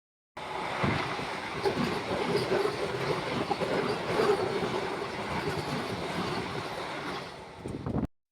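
A Tambaram–Mangalore passenger train runs through the Western Ghats toward the Kerala border, a dense, steady rumble with rhythmic clattering wheels and faint squeals throughout, heard from inside with no talking.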